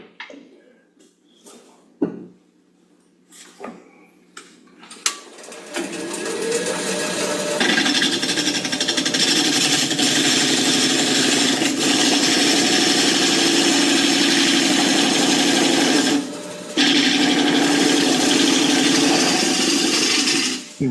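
Wood lathe turning an offset bowl, with a steady loud motor hum and tool scraping that starts after a few seconds of quieter clatter, running continuously with a brief dip near the end.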